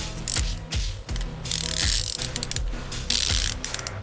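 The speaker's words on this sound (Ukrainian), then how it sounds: "Трещотка поки працює нормально. Тут перекидаємо, реверс." A Procraft socket wrench ratchet is turned in reverse, producing rapid close clicking bursts from the pawl in repeated strokes, with no talking.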